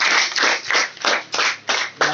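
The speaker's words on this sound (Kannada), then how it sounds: "ಒಮ್ಮೆ ಜೋರಾಗಿ ಚಪ್ಪಾಳೆ ಆಗಲಿ" Rhythmic hand clapping from an audience at a hygiene awareness event, applause for the Dear Angel sanitary pad: steady, close, evenly pulsing claps with no voices.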